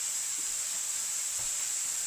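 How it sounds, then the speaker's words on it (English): Steady hiss of steam venting from the wand of a Vesuvius EVO Leva single-group dual-boiler spring lever espresso machine, a continuous, even, fairly faint jet with no talk over it. "So I'm at 123 degrees, which is pretty good, still pretty good steam pressure."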